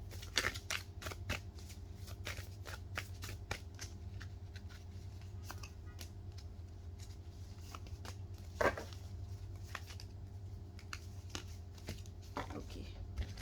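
Tarot cards are shuffled and drawn: quiet, irregular papery flicks and soft slaps recur close by over a constant low hum, with no clear talking.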